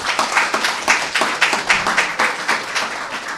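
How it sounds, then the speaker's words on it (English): An audience at a community update on housing progress in the Seattle area claps in a loud, steady round of applause, with individual claps sharp and close, all without talk over it. "that deserves a round of applause"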